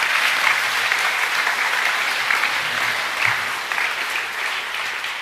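Students at a school assembly applaud competition winners, a steady wash of many hands clapping at even loudness for several seconds.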